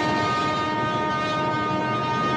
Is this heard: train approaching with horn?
yes